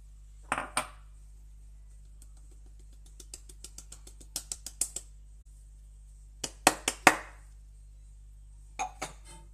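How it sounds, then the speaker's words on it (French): A utensil mixes torta della nonna filling in a bowl, making bursts of quick, close clinks and taps in irregular clusters over a low steady hum. "Et nous allons mélanger ceci délicatement."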